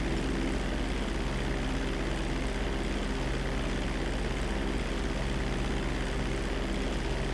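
Propeller airplane droning steadily in Grand Theft Auto 5, a loud continuous engine hum with no talk over it.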